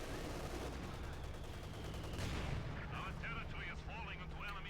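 In Company of Heroes 2, a tank shell strikes armor and glances off with a dull thump and a brief ringing clang, heard faintly in the background of a busy battle soundscape.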